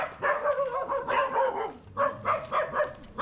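Several dogs bark in a run of repeated, moderately loud yaps near a house by a dead-end lane and river in Canggu, Bali, with short pauses between clusters and no talk.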